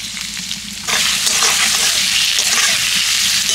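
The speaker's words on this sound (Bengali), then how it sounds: "এবার আমি ভেজে নিচ্ছি কুচিয়ে রাখা পেঁয়াজ।" Chopped onions fry in mustard oil in a wok for a village-style meal. A quieter sizzle jumps to a loud, dense, steady crackle about a second in and holds evenly, close by and with no voices.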